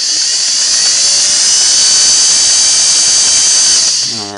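A Sweetness 401A sewing machine runs test stitching at a steady, continuous high-pitched whir, loud and close, easing off near the end with no talk.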